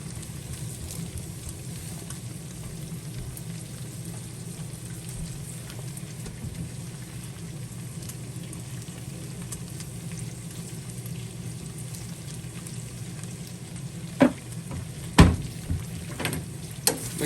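Bell peppers sweat in a pan as the base for a Bolognese, giving off a steady, soft sizzle and hiss from start to finish. A few sharper clinks and scrapes break through near the end.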